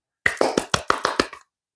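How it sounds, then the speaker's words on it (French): A single person claps their hands about eight times in a steady, even rhythm, close and fairly loud, with no talking. "J'ai envie de vous applaudir, excusez-moi, je l'ai fait"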